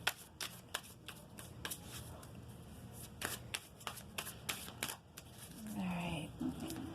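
Mystic Moon Oracle and tarot cards being shuffled by hand: a run of crisp, riffling card snaps and slides, close and fairly quiet, with a softer rustle near the end.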